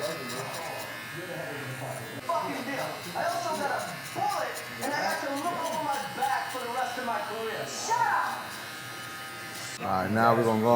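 A BaBylissPRO LithiumFX+ cordless hair clipper buzzing as it cuts hair with a 3 guard in the open position, a steady motor hum that runs under continuous talking.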